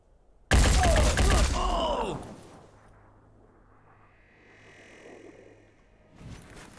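A loud burst of assault rifle fire from the Phoenix Point tactical game opens the clip, followed by ringing impacts and a fading tail, with a quieter burst near the end.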